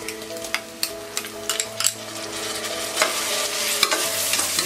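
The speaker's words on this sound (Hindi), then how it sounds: "अब हम इसमें डालेंगे ये टमाटर," Tomatoes tipped into fried onions for a whole green moong dal curry, sizzling steadily in the pan while a spatula stirs with sharp metallic scrapes and clinks throughout.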